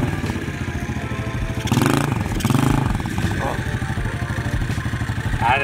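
A pit bike engine starts and runs with a loud, buzzy, steady putter that swells briefly partway through; a voice talks alongside.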